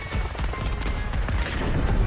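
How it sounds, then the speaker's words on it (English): Video game fireworks crackle and pop in a dense, rapid volley of bursts and booms, loud and continuous for about two seconds with no voices. "Fireworks."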